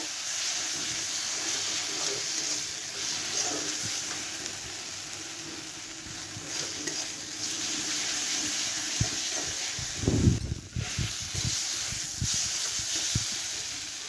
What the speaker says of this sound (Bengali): দেখুন মশলাটা আমার ভালো মতন কষে গেছে, তেল ছেড়ে দিয়েছে।